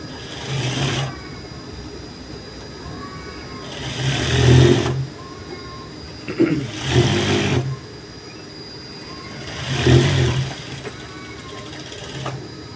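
A sewing machine double-stitches the joints of a churidar pajama in about four short, separate runs, each a brief whirring burst with quiet pauses between.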